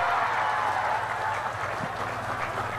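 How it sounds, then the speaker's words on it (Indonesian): An audience at an Indonesian religious lecture applauding, steady dense clapping throughout, moderately loud and continuous, with no pauses. "Berikan tepuk tangan, boleh."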